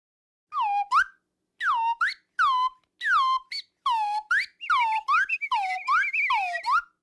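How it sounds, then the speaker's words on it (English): A cartoon pet bird whistles in a series of bright, clear chirping phrases, short separate calls at first, then a quicker warbling run, close and loud with no talking. "Listen to him whistle."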